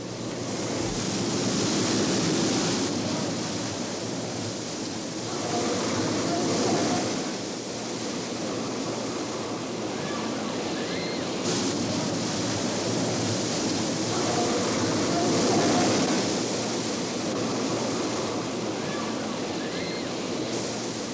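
A loud rushing roar of a staged flash flood, 10,000 gallons of water released from tanks on a hill on a Universal Studios tram tour, broad and continuous, swelling and easing slightly.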